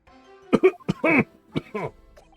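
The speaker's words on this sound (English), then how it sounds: "You seem to be coughing up some" A few rough, hacking coughs in quick succession from a character in The Great Ace Attorney video game, fairly close and loud, with a throaty, strained quality.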